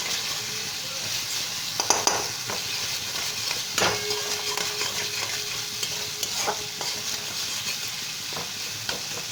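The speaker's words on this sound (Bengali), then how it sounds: "মশলাটা কিন্তু ভালোভাবে সাতলানো হয়ে গেছে, তেলটাও ছেড়ে দিয়েছে।" Spice paste with red chili powder fries in oil in a pan, a loud steady sizzle broken by a few scraping stirs and light clicks of the utensil.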